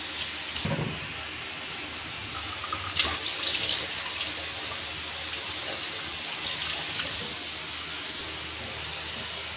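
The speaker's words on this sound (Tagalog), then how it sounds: "May hugas naman ng gulay. Pwede lang hugas na maigi, paputi." Vegetables washed under a running tap, a steady close rush of water lasting throughout with a brief splashy burst partway through, and no voices.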